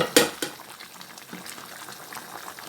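Steamed chicken tikka cooks in water in a pan on full flame, with a soft, steady bubbling simmer after a couple of sharp clicks at the start.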